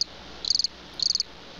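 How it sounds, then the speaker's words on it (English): Two short trilled bursts of cricket chirping, each a quick pulsing run of high notes, clear and close against a quiet background, inserted as a comedic sound effect. "Crickets again on Rian Johnson."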